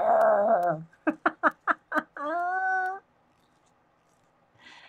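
A person imitates a growl during an adult coloring and calligraphy session. A loud voiced growl is followed by a quick rhythmic run of five short grunts, then a sustained throaty tone, before near silence.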